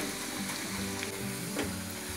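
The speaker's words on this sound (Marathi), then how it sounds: "तेल गरम झालंय, त्याच्यामध्ये आपण कांदा टाकून घेऊया." Onion frying in hot oil for ghati kanda-lasun masala, a continuous close sizzle with a faint hum beneath and a soft clink or two, no voices.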